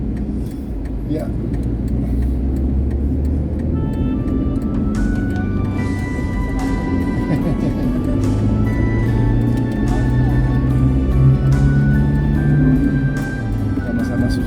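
A small car rolls along slowly on a village road in northern Bali, its engine a steady low drone throughout, with people chatting over it inside.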